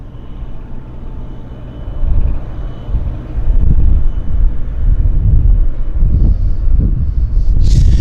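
A WestJet airliner taxiing at Vancouver airport, heard as a steady, fairly loud low rumble of jet engines that swells and surges over eight seconds, with no talking.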